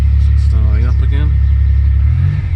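A Maserati Biturbo 430 engine rumbles steadily at close range with a deep, even idle throughout, while someone talks briefly over it.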